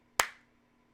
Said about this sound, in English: You want to do clap sync?